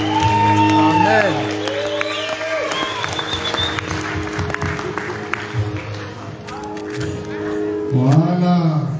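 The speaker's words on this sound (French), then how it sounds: "Une grosse acclamation pour le mission du maître" Audience applause and cheering fill a live gospel concert hall, steady clapping with scattered whoops swelling near the end over sung or spoken voices.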